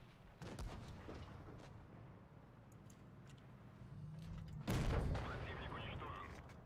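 A World of Tanks tank cannon firing a high-explosive shell, a sharp loud boom near the end after an earlier blast, set over steady engine rumble and game ambience with a voice talking briefly.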